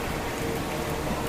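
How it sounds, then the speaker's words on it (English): Steady rain falling in Los Angeles, a continuous broadband hiss of drops with no gaps, fairly close and even in level, no voices. "It's just raining."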